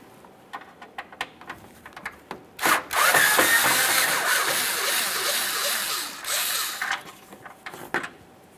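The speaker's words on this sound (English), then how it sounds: "We're going to remove this. Use a Phillips head screwdriver." A Phillips head screwdriver turns out the adjustment screw on a fog lamp of a 2015-2020 Ford F-150, giving a sustained scraping, grinding rub for several seconds, preceded and followed by short close clicks and taps.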